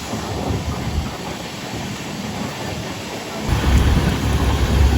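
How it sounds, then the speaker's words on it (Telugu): Heavy rain pounds steadily on a moving train with a dense rushing hiss, and a deep rumble swells louder toward the end. "బయట వర్షం చితక్కొట్టింగ్"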